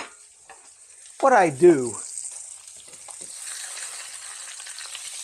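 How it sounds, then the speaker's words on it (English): Bacon fries in a frying pan, giving a low, steady sizzle under a short spoken phrase near the start, then continuing quietly on its own. "time to flip the bacon over"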